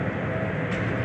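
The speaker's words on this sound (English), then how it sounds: "That's the light rail train that runs" A light rail train passes on tracks in downtown Salt Lake City, a steady broadband rumble and roar that holds loud and close without pause.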